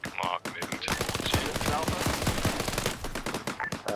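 Rapid automatic gunfire in a tactical military video game, loud and close with dense overlapping bursts, and voices talking over the shooting.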